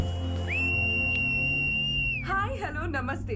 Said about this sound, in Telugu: అబ్బా ఏంట్రా ఈ పిల్ల రౌడీ లాగా విజిలేస్తుంది